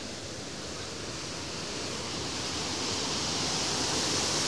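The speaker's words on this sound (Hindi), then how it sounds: "कितना तेज़ पानी जा रहा है वो भी आप देखना।" Fast water rushes through the gates of the Indira Gandhi canal, a dense, loud, continuous roar that swells slightly over a few seconds.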